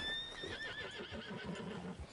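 A horse in the video game Red Dead Redemption 2 gives a single close, clear whinny that starts high and falls off in a shaky trill, with a low rumbling snort underneath and no talk.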